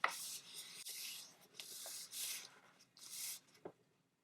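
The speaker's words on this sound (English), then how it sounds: "I'm just going to turn this over and I'm just going to fold it like this" A sheet of 8.5 x 11 paper being turned over and folded in half for a mini book, giving several soft, close papery rustles and sliding swishes with brief pauses between them, quiet and with no voice.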